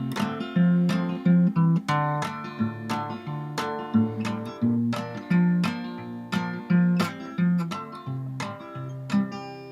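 Acoustic guitar playing the next, easy section of a song as a lesson example: steady fingerpicked notes and chords in a regular rhythm, close and clear with no talking.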